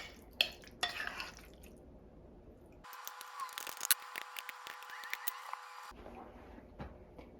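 A spoon spreads ground meat mixed with marinara over spaghetti noodles in a baking dish, giving soft, faint scraping and squishing sounds with light clinks against the dish.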